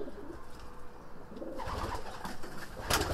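A racing pigeon coos in soft, low bursts, growing busier in the second half with a brief sharper sound near the end, close by amid faint background rustle.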